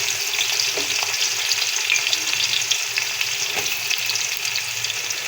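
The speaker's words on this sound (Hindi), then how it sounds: "इसके अंदर प्याज जाएंगे, प्याज को ब्राउन करेंगे।" Onions browning in hot ghee for chicken haleem sizzle and fry continuously, a dense crackling hiss with occasional stirring scrapes, close and alone with no voices.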